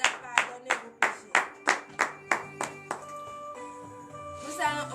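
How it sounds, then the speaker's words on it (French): A church congregation at a morning prayer service in Benin claps in a steady rhythm of about nine loud, sharp claps, fading as sustained music tones carry on beneath and after. "donnez de vives acclamations à l'Éternel"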